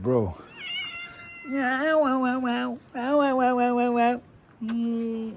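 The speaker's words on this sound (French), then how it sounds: "c'est un chat de dehors, pas oublier." A cat that lives outdoors on a Taipei street meows several times in drawn-out, wavering calls, close by and fairly loud, with a brief voice heard near the start.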